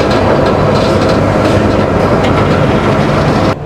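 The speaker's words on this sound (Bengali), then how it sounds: "ট্র্যাকটাকে চেঞ্জ করে আমরা এখন 1 নাম্বার প্ল্যাটফর্মে ঢুকবো" Nilgiri Mountain Railway toy train switching tracks as it pulls into Coonoor station, a loud, steady rumble of wheels and carriages rolling close by throughout, easing slightly at the very end.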